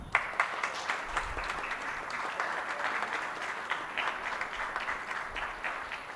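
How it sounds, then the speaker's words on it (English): An audience at a conference session applauds a panelist, a steady wash of many hands clapping at moderate distance with a few sharper nearby claps, continuing evenly throughout without speech. "Please, quick round of applause."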